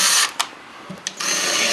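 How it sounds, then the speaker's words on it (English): A power drill drives screws into drywall in short bursts, a loud high whir at the start, a couple of brief blips, then a steady run to the end, close up with no voices. "I'm going to beat this up by adding a couple extra screws to it"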